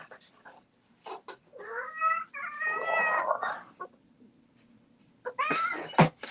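A house cat meows several times, drawn-out plaintive calls up close, with brief clicks and handling noises between them.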